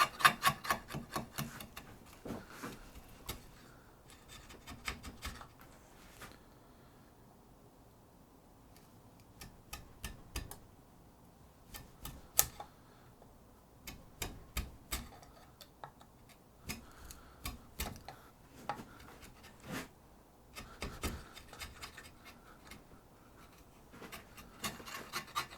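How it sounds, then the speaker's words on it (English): A 32mm hand chisel works a piece of wood down in quiet, close scraping and tapping strokes, coming in irregular clusters with short pauses between them. "I got my 32mm chisel out, and I'm just going to carefully work this down"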